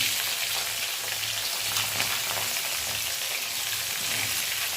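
Mixed vegetables hit hot oil tempered with black cumin in a pan, giving a loud, steady sizzle with occasional stirring scrapes and no voices.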